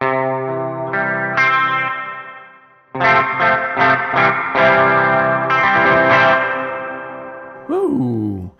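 Spring reverb from a Meris Mercury X pedal, dwell swept from zero to full, washes over sustained guitar chords, with the notes ringing and splashing into a longer, drippier tail toward the end, loud and alone.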